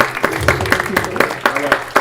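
An audience claps in a conference hall at a summer learning summit, with sharp, irregular hand claps close by, mixed with low talk, over about two seconds.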